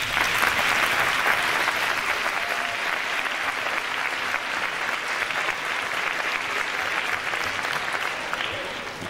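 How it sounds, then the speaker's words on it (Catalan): Sustained, dense audience applause at a school music concert, steady and loud throughout with a large crowd clapping evenly before tapering slightly at the end. "Jo donaré un fort aplaudiment per tots ells,"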